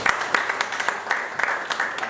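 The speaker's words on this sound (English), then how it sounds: "Please, a round of applause for everyone." Audience applause at a Millennial Hangout talk event, a short burst of scattered hand clapping from a modest crowd, fairly close and brisk.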